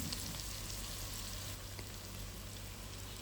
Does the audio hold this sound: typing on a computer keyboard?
no